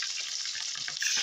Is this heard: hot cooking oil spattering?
yes